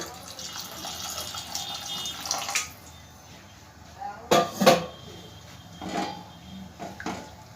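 Water is poured into a cooking pan while making magic eggs, a soft trickling stream with a few louder splashy bursts near the middle, fairly quiet and close.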